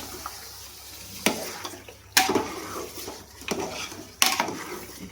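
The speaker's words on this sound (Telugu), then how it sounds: "ఒకసారి బాగా మసాలాలంతా కలిసేలాగా మిక్స్ చేసుకుందాం." Chicken pieces with masala being stirred in a cooking pot for spicy biryani, three distinct scraping knocks of a utensil against metal over a wet, moist sizzling background, close and without any talking.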